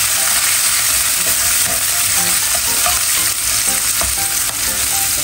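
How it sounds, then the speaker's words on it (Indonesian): Squid stir-fried with shallots, garlic and chili sizzles loudly and constantly in a hot pan, with scattered scraping and tapping of the stirring utensil throughout. "Ini cuminya udah aku goreng, terus sekarang aku masukin bumbunya."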